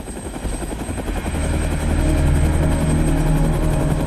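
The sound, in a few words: approaching news helicopters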